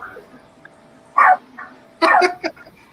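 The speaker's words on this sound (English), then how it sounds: "She's barking at the door again." A dog barks at a door indoors, two loud close bursts of barking with a short yip between, over quiet room tone.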